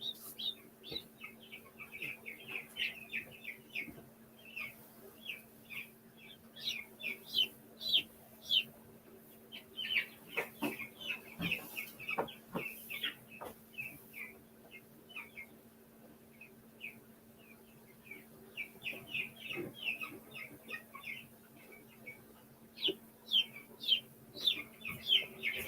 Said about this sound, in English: these are chickens that we hatching